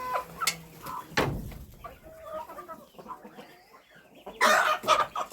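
Farmyard chickens cluck and squawk nearby while being fed potatoes, calls coming in uneven bursts with a louder flurry near the end, no talk over them.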